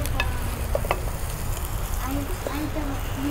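Sankranti vegetables with bor being stir-fried in a clay pot over a wood-fired chulha, a soft continuous sizzle with occasional scraping stirs, fairly quiet against a low rumbling background.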